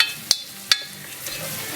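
Onions being stirred in oil in a pan, a soft steady sizzle with three sharp scraping clicks of the spoon spaced out across the moment, close and fairly quiet.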